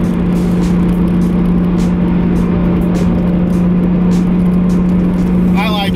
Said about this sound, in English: this is how it sounds on the freeway. Not a whole lot of drone.